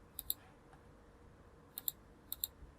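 Computer mouse clicks while drafting in Revit, three faint pairs of quick double clicks spaced apart in a quiet room.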